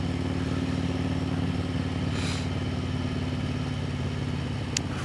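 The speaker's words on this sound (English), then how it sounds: "Fellow motorcycle." A fellow motorcycle on a scenic California road, its engine a steady mid-pitched drone heard close and continuous, with a brief whoosh midway as it passes; no talking.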